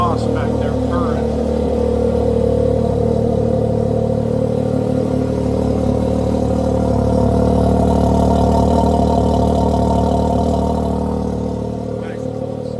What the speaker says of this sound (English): Listen to that GGB exhaust back there purring.